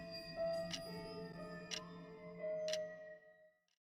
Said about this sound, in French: en plus du tic-tac de l'horloge